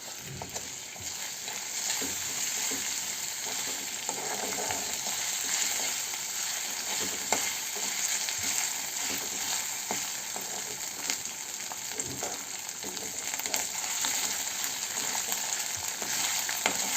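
Kara Pongal ingredients frying in oil and ghee over raised heat, a loud, continuous hissing sizzle with faint stirring clicks throughout.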